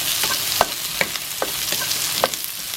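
Shiitake mushrooms cooking in a pan, a dense continuous sizzle with periodic stirring scrapes every half second or so, close and steady with no voices.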